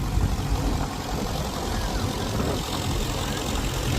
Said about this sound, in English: another little compact tractor going past the commentary box, a Ford 1220